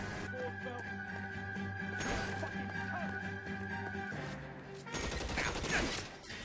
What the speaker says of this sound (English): no post-World War II LA would be complete without random gun shootouts